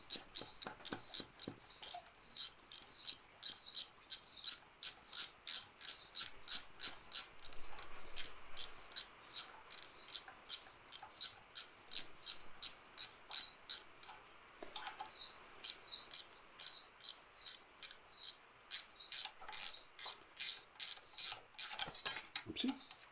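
A ratchet works bolts on the front axle of a 1971 Range Rover, giving rapid repeated clicking bursts in a steady rhythm with brief pauses, close and clear, with no talk.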